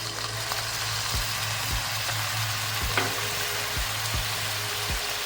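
Spice paste sizzles steadily in a pan for aloo dum as a little water is added, a loud continuous frying hiss with periodic stirring scrapes and thumps, no voices.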